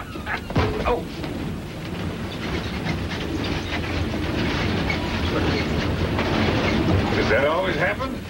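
A runaway train on the rails rumbles and clatters steadily with a rhythmic clickety-clack, loud and close, building slightly in intensity throughout without a break.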